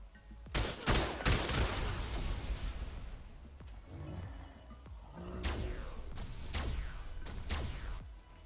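Gunfire rattles through a cave raid in the survival game ARK, with a loud early burst of rapid shots, a quieter stretch, then further scattered volleys of cracks.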